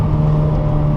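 A 2014 Nissan Juke NISMO RS engine held at high revs on a race track, a loud, steady droning hum close by with no talk over it.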